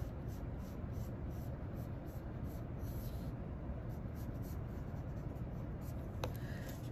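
Pencil scratches steadily across paper while sketching circles and curved lines, a soft continuous rasping texture heard close up throughout.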